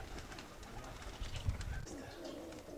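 Soft, low pigeon coos murmur close by over a dull background rumble, a few throaty notes rising and falling.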